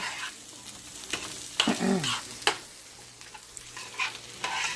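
Chicken coated in garlic pesto is stirred in a pan, with soft scraping strokes and a brief clatter over a light sizzle, close and fairly quiet, with no speech.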